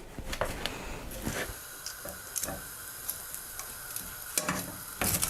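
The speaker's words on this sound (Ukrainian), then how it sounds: "відрізаємо декілька шматочків та підсушуємо в тостері або ж на пательні" Bread slices crisping in a frying pan for pumpkin bruschetta with spinach and anchovies, giving a steady close sizzle broken by irregular clicks and taps of a utensil against the pan, with no talking.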